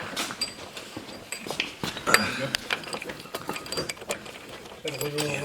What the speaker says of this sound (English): We're just tightening everything down now.